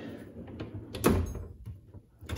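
A drawer of a large tool chest holding Snap-on Blue Point ratchets and bits slides open with a short rolling scrape and a sharp bump at the stop, fairly close and without talk.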